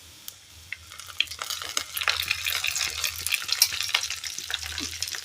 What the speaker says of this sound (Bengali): কারি পাতাগুলোকেও একটু হালকা করে ভেজে নেব।